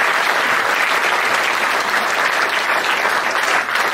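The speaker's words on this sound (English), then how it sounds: "big round of applause for Alana." Audience applause at the Rose of Tralee 2013 event, a dense, steady roar of clapping from a large crowd that holds loud and even for the whole stretch, with no talk over it.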